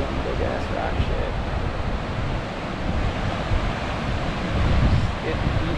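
Ocean surf breaks against rocks off the Maui coast, a loud, continuous rushing wash with wind buffeting the microphone and a swelling surge toward the end; a voice may be faintly present.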